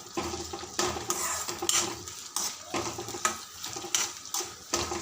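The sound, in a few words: stirring onions, chillies and curry leaves in a pan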